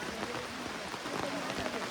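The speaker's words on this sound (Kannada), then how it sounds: "ಮಳೆ ಬಂದದ್ದು. ನಾವು ಬಂದರೆ ಮಳೆ ಬರ್ತದೆ." Rain falls steadily in a dense, even patter, a continuous wash of drops on surfaces at a home during a family festival, with no clear voices over it.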